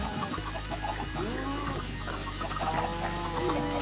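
Minecraft chickens and chicks clucking in a video game, a steady run of short repeated clucks and chirps over a constant background hum, fairly close and without talk.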